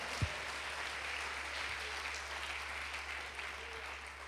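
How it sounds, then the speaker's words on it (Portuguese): Church congregation at a Brazilian worship service applauds in place, a soft steady patter of many hands heard at a distance over a low hum, with a faint thump near the start. "Aplauda o Senhor no teu lugar."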